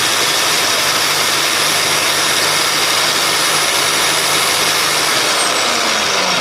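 A powerful wood sanding machine runs continuously at full speed, producing a loud, steady, close whine and roar with no pauses and no voices.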